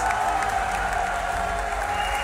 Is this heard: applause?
yes